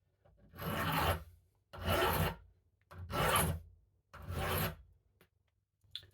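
A hand file rasps against the tip of a disc detainer pick held in a vise: four slow, even strokes, close and clear, separated by short silent pauses.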